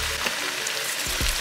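Onions and vegetables fry in olive oil in a pan, giving a steady, close sizzle with a few soft clicks of stirring.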